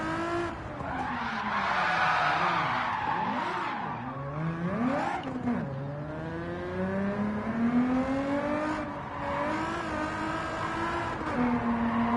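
In a racing video game, tyres squeal under hard braking as the car's engine note rises and falls through downshifts and acceleration, the wavering squeal and engine tone continuous and fairly loud with no talk.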